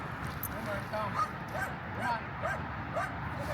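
Several dogs yipping, barking and whimpering in short, excited bursts close by, with someone talking over them.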